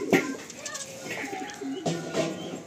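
Kalanka racing pigeons coo in soft, repeated throaty phrases close by, with faint background noise.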